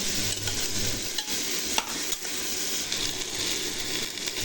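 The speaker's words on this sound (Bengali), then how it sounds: "এভাবে আমি 1 মিনিট ভেজে নিই।" Steady sizzling of food frying in a pan, with occasional stirring scrapes and clinks, close and fairly loud, no voices.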